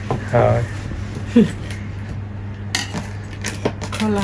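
Metal clinks and scrapes as a pot of kacchi biryani is opened, a few sharp clanks of lid and utensils over a steady low hum, with voices talking nearby.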